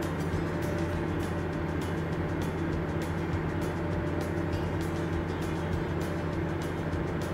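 A heavily loaded diesel truck, about 250,000 pounds, climbing a hill, giving a steady low droning engine hum at constant pitch with faint regular ticking over it, moderately quiet and without talk.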